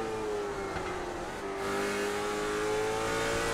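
A race car engine in the iRacing oval racing game at Martinsville holds a steady whine, drops in pitch around the midpoint, then climbs and sustains a loud, close drone with faint tire noise.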